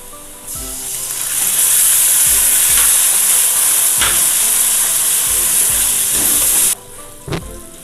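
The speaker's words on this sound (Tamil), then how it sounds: "இப்போ நம்ம தக்காளி சேர்த்துடலாம்." Tomatoes go into golden-brown onions frying in a pan for a ridge gourd curry, setting off a loud hissing sizzle with repeated stirring knocks that cuts off abruptly near the end, leaving a final clink.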